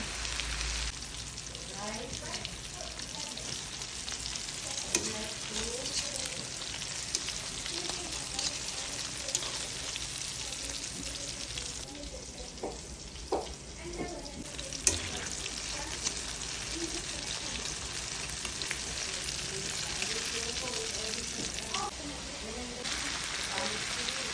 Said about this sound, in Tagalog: Magpiprito na ako, guys. Ito na yung isda.